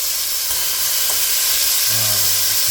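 Beef pieces for stew sear in a hot pan, a steady loud hiss and sizzle filling the space, with a brief low scrape of stirring near the end.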